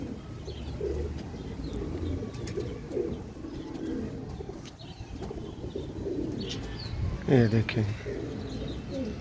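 Sialkoti rooftop pigeons coo softly at a distance, with a short burst of wing flapping near the end and someone speaking over the birds.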